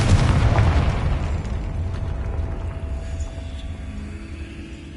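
A fiery Confringo spell blast in Hogwarts Legacy erupts with a loud, rumbling boom at the start, then rolls off into a long, fading low roar and debris crackle over several seconds.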